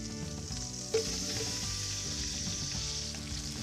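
Garlic, onion and vegetables sizzling loudly in a pan alongside seared beef for a Barolo braise, a continuous close frying hiss with one brief clink of a utensil near the start and no talk.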